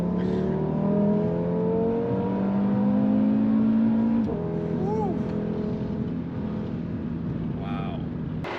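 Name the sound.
Audi RS3 on winter tires accelerating through a corner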